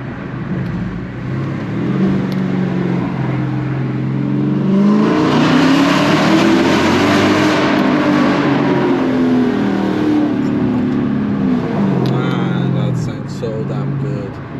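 A Dodge Challenger Scat Pack widebody being driven, its engine a loud, steady drone that swells and rises in pitch mid-clip as it accelerates, then settles back, heard from inside the car.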